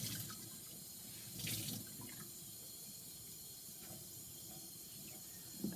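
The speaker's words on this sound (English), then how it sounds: "you do want some running water and a cloth towel" A sink tap runs steadily with a hissing gush of water for cleaning a coil pot, and small splashes and clinks sit on top of the continuous flow.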